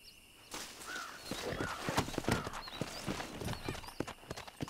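Horse hooves clip-clop in a steady, close rhythm in the Red Dead Redemption video game, with a few short neighs and whinnies rising above the trotting.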